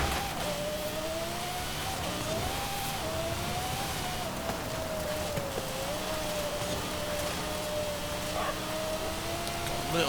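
A 2015 Honda Ridgeline Baja trophy truck engine in Forza Horizon drones steadily at high revs, its pitch wavering slightly, under a constant rushing hiss for the whole stretch.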